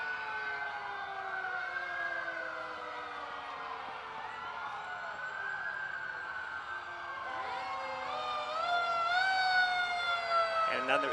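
A fire engine siren from the Fitchburg, Massachusetts fire department wails through a Civic Days parade, rising and falling steadily at moderate distance, growing louder toward the end, with people talking over it.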